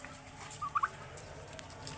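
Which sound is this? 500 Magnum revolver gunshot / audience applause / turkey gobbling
turkey gobbling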